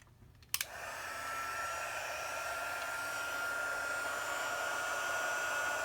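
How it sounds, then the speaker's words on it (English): A heat embossing tool blows hot air over a stamped birthday card. A small click is followed by a steady, close fan-like whir that holds at an even level to the end. "now I'm going to heat emboss this"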